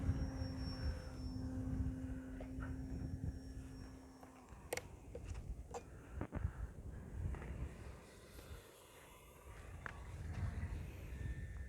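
E-flite Valiant 1.3 m electric RC airplane flying at about 30% throttle, a steady moderate motor drone that fades partway through as the plane moves off, with a few sharp clicks and light wind noise around it.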